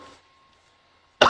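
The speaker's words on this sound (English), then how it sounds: "Shit, I'm sorry about the coughing." A single harsh cough bursts out loudly at the very end after near silence, from a man whose water went down the wrong pipe during a casual podcast conversation.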